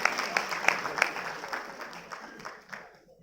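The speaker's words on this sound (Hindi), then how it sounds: "इसकी ताली बजाएं" An audience at a spiritual talk gives a short round of applause, a few sharp claps at first that quickly thin out and fade to quiet within about three seconds.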